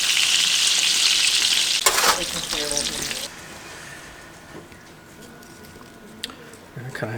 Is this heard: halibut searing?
yes